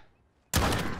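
A sudden burst of overlapping gunfire as several players fire at once in a multiplayer shooter video game, loud and dense, starting abruptly after a quiet lead-in and lasting to the end.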